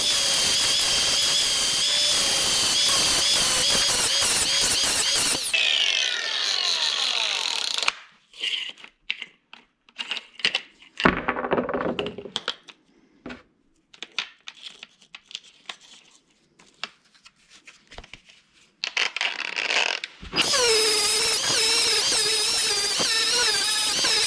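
An angle grinder with a worn 60-grit wheel cleans up flashing on a welded differential cover, loud steady grinding at the start and end with a stretch of scattered scraping bursts and brief contacts between.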